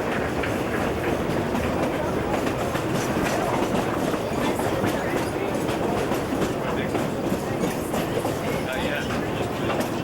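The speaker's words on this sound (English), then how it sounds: "Here comes the other train." A train rumbles steadily past up close on the Durango–Silverton line about 5 miles outside Silverton, wheels clattering in a continuous rhythm over the rails with a dense, roaring wash of noise throughout.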